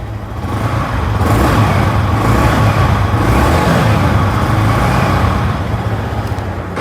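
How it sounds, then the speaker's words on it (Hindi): A Yamaha R15 M motorcycle engine (2023 model) rumbles at idle through its exhaust, a steady continuous low throb with slight swells, close by and with no talking. "बाइक का एग्जॉस्ट का साउंड सुन लें।"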